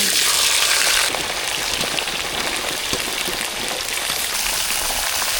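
Diced potatoes hit hot oil already crackling with mustard seeds for a South Indian potato fry, giving a loud, dense sizzle that bursts at first, then settles into a steady, close hiss with scattered pops.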